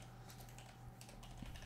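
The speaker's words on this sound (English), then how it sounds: "Straight up typing that out right now." Computer keyboard typing as quick, soft clicks in a steady stream against a faint hum, with no one talking.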